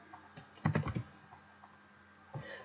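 Typing on a computer keyboard comes through as a quick cluster of soft clicks, then a pause and a couple more keystrokes, fairly quiet and close.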